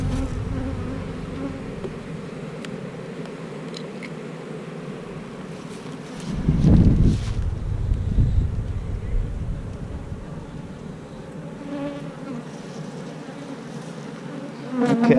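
Honey bees buzzing around a hive frame full of brood, a close steady drone that swells briefly louder in the middle as the frame is handled, with no talking.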